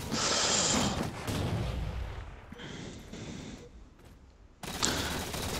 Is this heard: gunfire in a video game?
yes